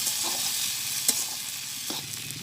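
Onion, garlic and chili frying in hot oil, a steady close sizzle with a few soft stirring clinks, no talking.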